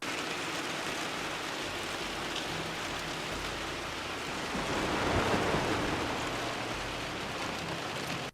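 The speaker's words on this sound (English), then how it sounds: "The only other sounds you'll mostly hear will be the ones coming from the storm outside." A thunderstorm rages outside in a video game, with constant heavy rain and a rolling rumble of thunder building and peaking midway before easing back into the downpour.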